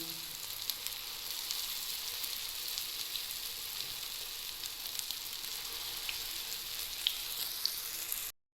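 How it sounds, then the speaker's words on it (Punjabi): Potato tikki patties fry in shallow oil on a flat pan, a soft, even sizzle with faint crackling pops throughout before cutting off. "ਇਹਨਾਂ ਨੂੰ ਵੀ ਚੰਗੀ ਤਰ੍ਹਾਂ ਨੀਚੇ ਤੋਂ ਫਰਾਈ ਕਰ ਲਵਾਂਗੇ"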